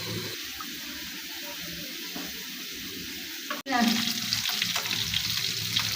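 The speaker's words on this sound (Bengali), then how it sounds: "ফাঙ্গাস মাছগুলো এখন তেলে বাজি করতেছি" Pangas fish frying in hot oil, a continuous sizzling hiss with some stirring and watery crackle; a sharp clatter partway through brings a louder, busier burst of frying.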